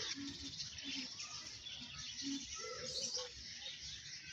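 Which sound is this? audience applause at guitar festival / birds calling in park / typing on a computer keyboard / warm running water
birds calling in park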